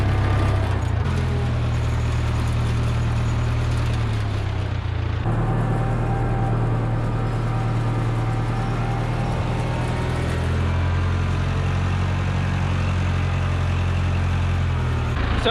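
A tractor engine idles steadily with a deep low rumble as it is pulled into a shed, continuous and close for the whole stretch.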